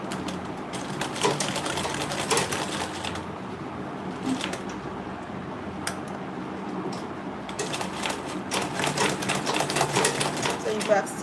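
A sewing machine back-stitches a tote bag, its needle rattling in rapid bursts that start and stop. Several short runs of stitching are separated by brief pauses.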